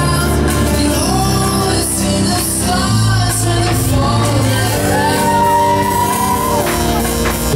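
Riders on a Flip Fly fairground ride shout and scream amid loud, dense fairground noise, with rising and falling cries and a steady roar of music and crowd that continues throughout.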